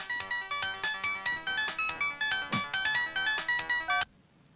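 A mobile phone ringtone plays a bright repeating electronic melody for about four seconds, then cuts off, leaving a faint fading tone.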